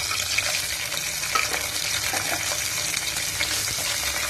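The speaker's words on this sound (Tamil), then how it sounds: "5லேருந்து 10 கேஷ்யூ சேர்த்து நல்லா வறுத்துக்கலாம்" Cashews frying in ghee or oil with pepper, cumin and curry leaves for hotel-style venpongal, a dense continuous sizzle with faint stirring clicks throughout.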